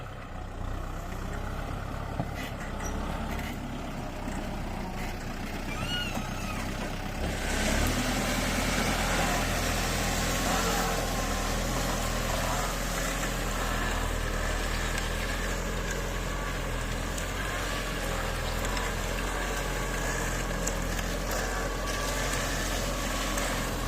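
A Kubota M6040 tractor plows sticky, rain-soaked field soil to prepare ground for planting cassava, its steady diesel rumble growing louder and nearer partway through, with no talking.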